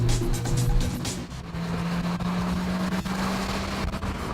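Hyundai Veloster with its non-turbo engine straining for power while driving uphill, a steady droning hum with a rising tonal whine, heard from inside the car without talk.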